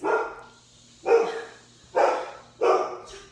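An agitated house dog barks at guests who have just come in, four sharp, nearby barks spaced about a second apart, heard alone without any voices.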